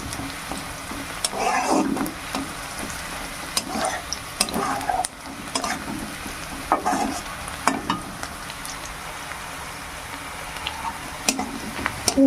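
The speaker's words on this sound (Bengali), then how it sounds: "শাকের পেঁয়াজগুলোকে আমি একটু লাল লাল করে ভেজে নেব" Onions and garlic fry in a pan for a Bengali boitta shak dish: a steady close sizzle runs throughout, broken by repeated scraping stirs every second or two, with no talking.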